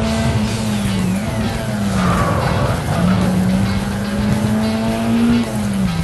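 Honda Civic sliding under handbrake, a long wavering tire squeal over the droning engine, loud and close, rising and falling in pitch across several seconds without talk.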